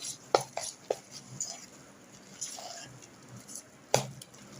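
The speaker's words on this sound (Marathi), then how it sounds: "तर हे मी आता हाताने एकत्र करून घेणार आहे" Soaked chana dal bhaji batter with a handful of soda is squished and mixed by hand in a bowl, giving sparse soft wet slaps and clicks at irregular intervals, close and fairly quiet, with no talking.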